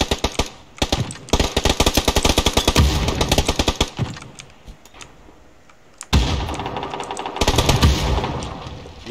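Rapid bursts of automatic gunfire in PUBG, loud and close, with sustained rattling volleys broken by a short quieter pause before firing resumes.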